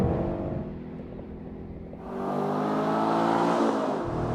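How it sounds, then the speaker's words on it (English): A Ford Mustang 5.0 GT engine revs hard on a track straightaway, pitch climbing as it accelerates, loud and sustained with a brief dip partway through. "the Mustang revs it out beautifully on the straightaway across the finish line"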